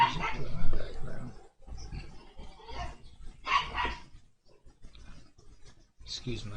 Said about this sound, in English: Excuse my crazy dog.